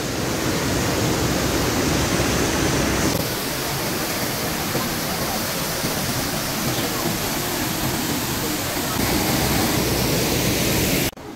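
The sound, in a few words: roadside waterfall on the way to Nathula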